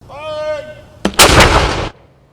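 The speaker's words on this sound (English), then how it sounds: "with cannons fire at 8:46 Eastern Time" A ceremonial cannon fired by ROTC cadets at a university September 11 memorial observance booms once, loud and close. The blast is followed by a sustained rumbling roar, and a fading tonal sound comes just before it.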